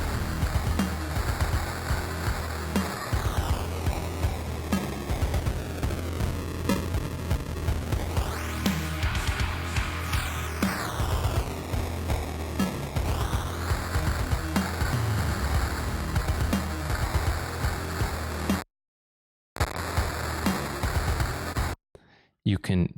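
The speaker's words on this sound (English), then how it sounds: "You can totally destroy your audio with this and make it sound, well, pixelated." A mix processed through the Joey Sturgis Tones Pixelator plugin, crushed into gritty, digitally degraded, bit-crushed sound with warbling sweeps, running continuously and loud before cutting out in brief silent gaps near the end.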